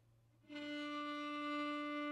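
A viola bowed over the fingerboard enters after a short pause and holds one sustained note with a soft, unfocused tone, quiet and close with no talking.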